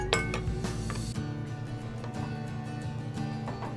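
Spoon clinking against a small cup while stirring a cornstarch mixture for a creamy ham sauce, repeated close metallic taps over a steady background hum, with no speech.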